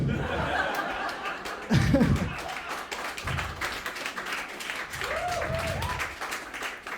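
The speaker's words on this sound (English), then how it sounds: "Thanks for clapping for that." A stand-up comedy crowd claps and laughs in scattered bursts, with chuckles rising and fading over a patter of applause, moderately close and lively.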